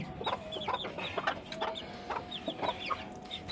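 A desi hen clucks repeatedly in a farmyard, its short, close calls coming in quick irregular bursts with no voices over them.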